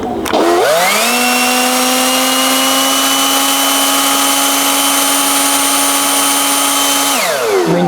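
A DeWalt DCBL772 battery leaf blower spins up, holds a loud steady whine with a rising-then-level pitch for several seconds, then winds down at the end.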